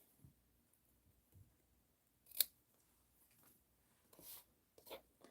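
Scissors trim the frayable ribbon edges on a bow tied around a gift box, giving a few quiet, separate snips and clicks in an otherwise still room.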